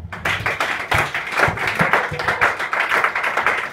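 A church congregation claps in a steady rhythmic beat, many hands together at close range, with no voices over it.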